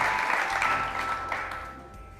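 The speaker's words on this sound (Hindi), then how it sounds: "महविश के लिए बहुत सारी तालियां।" A studio audience claps steadily on a Pakistani TV chat show, broad and moderately loud, holding for a couple of seconds and thinning slightly toward the end, with no voices over it.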